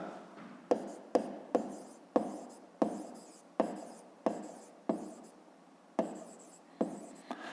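A pen writes out a square-perimeter maths solution by hand, making a close series of quick, scratchy strokes and taps in an uneven rhythm.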